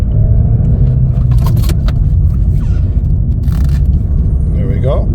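A Chevrolet Cruze LT with a manual stick shift drives in first gear, its engine giving a steady low interior rumble with a few rattles and knocks, while someone speaks over it.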